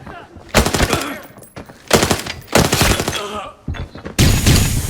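Rapid automatic gunfire in the video game Arena Breakout comes in several loud, close bursts separated by short pauses.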